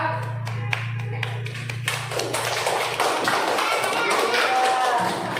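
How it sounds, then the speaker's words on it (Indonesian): Classroom applause for a student group: a few sharp taps at first, then a dense patter of many hands clapping close by that grows fuller and keeps going to the end. "Beri aplaus dulu untuk kelompok 2"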